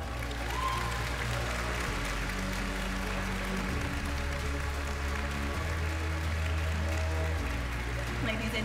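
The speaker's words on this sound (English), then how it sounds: "a huge round of applause for remarkable top six finalists" An audience applauds the top six finalists of a beauty pageant final, a steady wash of clapping held throughout under a low musical backdrop.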